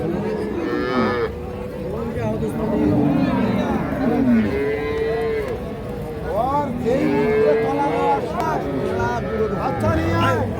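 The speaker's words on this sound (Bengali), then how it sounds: "এই দেখছেন গাভীটা" Several Holstein Friesian dairy cows moo repeatedly at a cattle market, loud and close, their long calls overlapping against a steady background of people murmuring.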